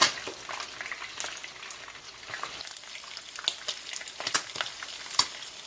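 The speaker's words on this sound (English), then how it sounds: "My fish are frying." Fish for Jamaican escovitch sizzles and crackles steadily in hot oil, with occasional sharper pops and spatters close by.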